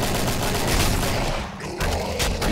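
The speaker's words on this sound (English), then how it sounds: "A lot of crossbow shots going." Dense, rapid crossbow shots from the video game Killing Floor, overlapping into a continuous loud volley with a brief dip midway before picking up again.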